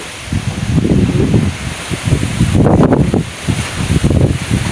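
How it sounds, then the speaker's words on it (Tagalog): Strong wind buffets and roars across the microphone in rough, gusting bursts, loud and close throughout. "ang lakas ng hangin"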